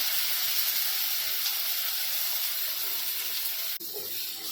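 Smashed chickpeas (chole) going into a pan of golden fried onions give a steady, close frying sizzle and hiss that runs throughout, with a brief clatter near the end.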